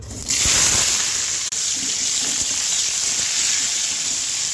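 Potatoes frying in hot oil while cooking chicken kosha: a loud, steady sizzling hiss that starts abruptly and carries on unbroken, close by.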